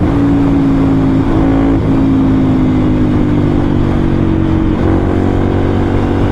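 Ducati Monster 796 motorcycle engine heard while riding, a loud close continuous drone whose pitch rises and dips slightly with throttle, wind noise underneath, no speech.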